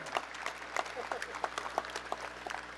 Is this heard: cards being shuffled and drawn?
no